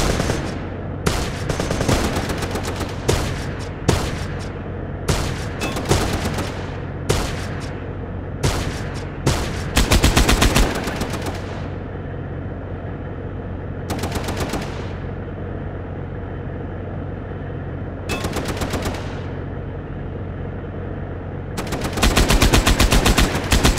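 Sniper and automatic gunfire in a Colombia-set war shooter video game, loud repeated bursts of shots spread across the scene with pauses between volleys and a steady low background rumble.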